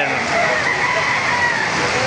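Chickens and a rooster at Bocaue market, soaked in heavy rain, with a steady broadband hiss of downpour filling the background while bird calls sit faintly inside it.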